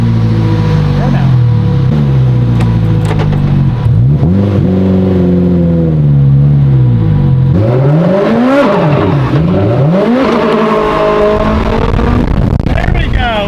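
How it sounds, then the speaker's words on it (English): Honda NSX doing a burnout: a loud, close engine rises and falls through repeated revs, with wavering pitch sweeps and a steady roar throughout. "Burnout."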